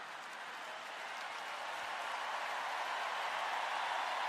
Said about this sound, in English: Uproarious applause.